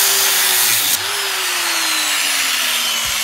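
A grinder runs steadily and loud up close, a harsh high-pitched whine with a brief dip and restart, its pitch slowly sagging under load.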